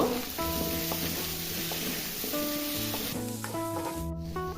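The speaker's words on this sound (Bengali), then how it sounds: "মাঝে মাঝে একবার ঢাকনাটা তুলে এইভাবে নাড়াচাড়া করে দিব" Pumpkin and potato curry sizzles steadily in a pan while being stirred, a continuous frying hiss that sits under louder background music with no speech.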